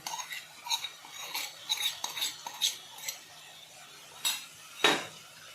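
A spoon stirring roasted mawa into dudhi halwa in a pan, giving repeated scraping clinks and scrapes of metal against the pan, quiet and close with a few sharper knocks.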